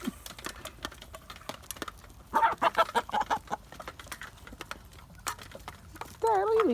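A chicken clucks in a quick run of short calls amid steady tapping and pecking noises, with a louder squawk near the end.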